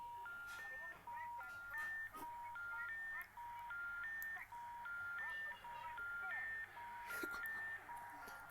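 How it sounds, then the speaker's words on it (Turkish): A radio in the video game Hello Neighbor Alpha 1 plays a faint, repeating electronic melody of stepped beeping notes that loops over a low background hum. "Bu Hello Neighbor Alfa 1'deki radyonun sesi."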